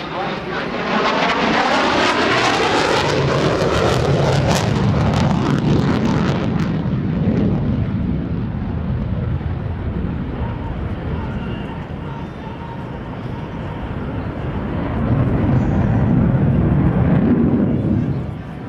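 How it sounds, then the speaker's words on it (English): An F-14D Tomcat jet roars loudly through an upright roll at an air show demonstration, a sustained, powerful engine rumble that sweeps and shifts in pitch as it passes, then swells again near the end, with a commentator talking over it. "there's your upright roll of the F-14 Tomcat"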